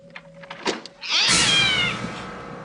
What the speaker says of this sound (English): After a cheap cat scare